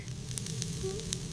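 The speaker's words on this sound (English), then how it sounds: "Right on the grill. Hear that sizzle?" A giant burger patty sizzles on a hot grill, a constant close crackling hiss with scattered sharp pops.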